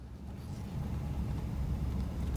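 A restored 1966 Chevrolet Caprice being broken in cruises along with a low, steady engine rumble and road noise heard from inside the car, fairly quiet and without talk.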